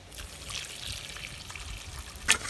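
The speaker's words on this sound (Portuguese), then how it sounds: "Logo após, adicionamos uma xícara de leite de coco." Coconut milk pours from a cup into a bowl, a soft trickling stream heard up close and fairly quiet, ending with a brief sharper splash, no voices.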